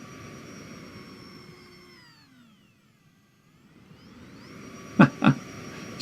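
An E-flite jet in the RealFlight RC simulator whines steadily, its pitch dipping and fading away before rising back as it passes, then two sharp thumps near the end.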